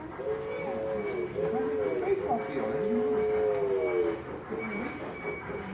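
A black train rolls past, its low rumble steady in the background while an adult talks with a young child close by.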